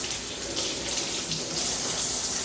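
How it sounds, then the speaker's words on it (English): Cold tap water runs into a sink in a kitchen while peppers are washed, a steady close hiss and splash with no pauses. "And then from there, I'm going to wash them off in cold water."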